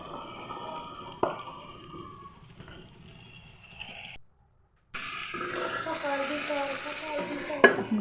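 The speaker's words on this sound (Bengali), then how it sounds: "সবজিটা অনেক ভাজা ভাজা করবো" Chopped vegetables and potatoes stirred and frying in a pan, with steady sizzling and scraping, a sharp clatter near the start, a brief drop to silence midway, then louder sizzling and stirring.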